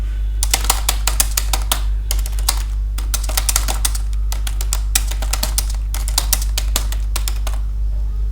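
Continuous rapid typing on a computer keyboard while entering text into MS Word, crisp close clicks in fast bursts over a steady low electrical hum.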